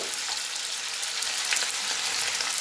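Elephant foot yam sizzles steadily in hot oil in a pan with salt and turmeric for a Bengali dish, giving an even, close crackle with no pauses and no talk.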